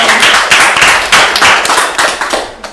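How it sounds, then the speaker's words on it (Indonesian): A school audience at a student magazine podcast event claps loudly and close by, a burst of enthusiastic hand-clapping with uneven peaks that fades over about three seconds. "Tepuk tangannya dong"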